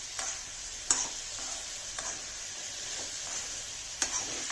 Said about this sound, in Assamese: কঁঠালৰ গুটিৰ লগত অলপ ভাজি ল'লোঁ